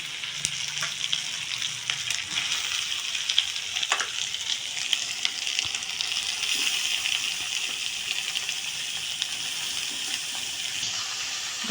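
Grated beetroot and carrot stirred into fried spice masala, a strong steady sizzle with wet crackling and scraping of the spoon, close and loud throughout with no talk.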